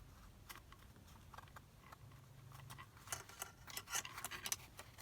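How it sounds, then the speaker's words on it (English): Metal paper clips scrape and tick against a craft cutting mat while a paper ephemera piece is glued with Fabri-Tac, giving faint scattered clicks and rubs that grow denser and louder toward the end. "sorry about that noise of the paper clips there against the mat"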